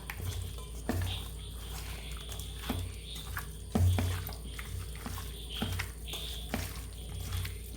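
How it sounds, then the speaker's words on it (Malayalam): Wet squelching and soft slapping of chicken being mixed by hand with lemon juice and marinade for kadai chicken, close and quiet, with repeated irregular squishes and faint drips. "ഇനി നമുക്ക് കൈ വെച്ചിട്ട് നന്നായി ഒന്ന് മിക്സ് ചെയ്ത് കൊടുക്കട്ടെ"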